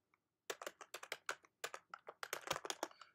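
Brisk, irregular keystrokes on a computer keyboard type out a commit comment, a fast run of close, crisp taps with short pauses in a quiet room.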